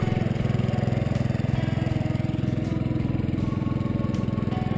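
A farm tractor with a new sprayer driving across a field, its engine chugging steadily with a fast, even pulsing throb, close and fairly loud throughout.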